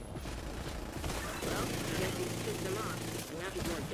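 Gunfire in The Division 2 during an Incursion mission, bursts of automatic shots with mechanical clatter and game effects, moderately loud and mixed with a talking voice.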